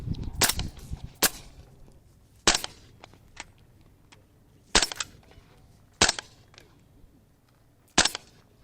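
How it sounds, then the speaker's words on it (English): A suppressed 7.5-inch 300 Blackout rifle fires sharp, spaced single shots outdoors, about seven reports with a second or so between them. "the suppressor is actually sounding really good too as well"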